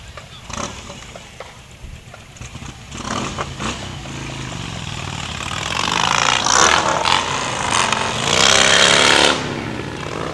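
Loud Harley-Davidson motorcycles roar past in a community fire muster parade, engines rumbling and rising in bursts that peak near the end, with crowd noise in the background.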